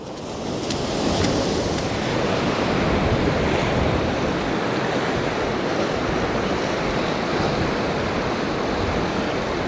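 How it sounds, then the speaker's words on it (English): Ocean waves crashing on rocks along a coast around a wreck, a continuous loud roaring wash of surf with wind, no voices. "we're using these beautiful rocks and the power of these waves"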